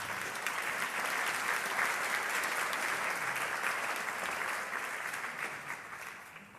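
An audience applauds after a conference talk on reusing discarded goods, with dense, sustained clapping throughout that fades slightly toward the end.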